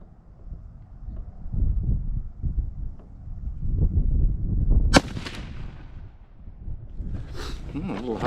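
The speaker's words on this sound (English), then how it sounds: "Shooting at the bottom center target." A single sharp, loud rifle shot from a Henry Long Ranger at an outdoor range cracks near the microphone midway, set against wind and low rumbling, with someone talking before it.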